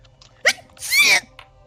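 One sharp sneeze bursts out close by, an abrupt breathy blast followed by a brief hiss, then near silence.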